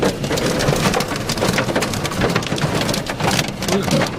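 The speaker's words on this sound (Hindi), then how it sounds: "ये ओले हैं और ये अभी कार में आके गिरा है।" Hailstones pelt a car hard and continuously in strong wind during a storm, a dense, loud clatter of countless impacts without pause.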